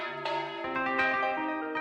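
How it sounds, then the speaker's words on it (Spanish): Bronze church bells of Santa María ring out over a small village in Utrera, with several overlapping metallic strikes whose tones hang and decay in a rich, resonant peal. "el repique del bronce de estas campanas son la banda sonora de este caserío"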